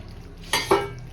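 Two quick bursts of sizzling and clatter, as green peas are tipped into a hot pan for butter matar paneer, over a quiet background.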